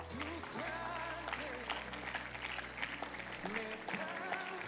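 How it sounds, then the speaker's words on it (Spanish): Church congregation applauding during a service, a soft, steady patter of clapping running beneath voices that speak and call out over it throughout. "¿Le puedo dar un fuerte aplauso al Señor?"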